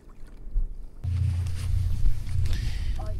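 A small fishing boat's outboard motor kicks in after a second of quiet and settles into a steady low, close hum, with faint splashes and small knocks around it.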